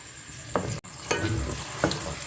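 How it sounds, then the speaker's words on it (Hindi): Onions frying in hot oil in a pot, a close sizzle with a few sharp stirring scrapes breaking in at intervals; nobody speaks. "प्याज़ों को मैंने डाल दिया था ऑयल के अंदर और प्याज़ों को अच्छे तरीके से हम भून लेंगे"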